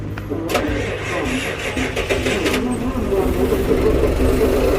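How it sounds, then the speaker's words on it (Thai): A bus's EP100 engine cranks and catches, with a brief starter whir and then a rough, steady running rumble close by as people talk over it. "เครื่อง EP ร้อย แห้งแห้งดีมากเลยนะ ลองสตาร์ทดูครั"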